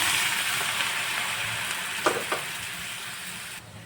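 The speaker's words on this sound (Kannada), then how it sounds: "ಹುರ್ಕೊಂಡಾದಮೇಲೆ ತಕ್ಷಣ ಸ್ವಲ್ಪ ತಣ್ಣೀರು ಹಾಕ್ಕೊಳ್ತಾ ಇದ್ದೀನಿ" Cold water hits a pan of dark-roasted horse gram, giving a steady hiss with a couple of sharp crackling bursts before the sizzle fades.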